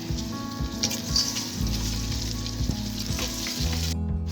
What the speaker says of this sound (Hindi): ये लहसुन अदरक भून गया